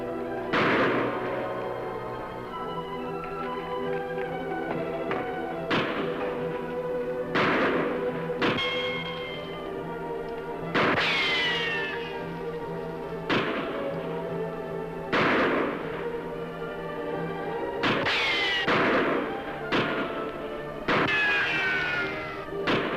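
Gunfire in a western radio drama shootout among rocks, with about a dozen sharp shots spaced a second or two apart, some ringing with echoing ricochet-like tails, no talk.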